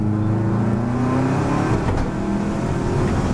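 A Subaru accelerates on a driving circuit, its engine note climbing steadily in pitch as it pulls hard, loud and close with a continuous drone and no pauses.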